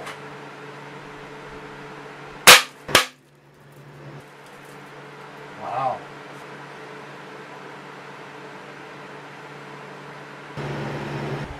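Pellets from several air rifles striking a newly built target backstop: two sharp, loud impacts close together, a fainter thud a few seconds later, then a steady hum.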